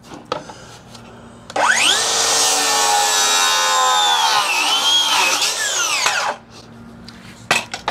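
A DeWalt 60V cordless circular saw spins up and cuts for about five seconds with a loud, whining, strained tone, then winds down, leaving faint knocks afterward.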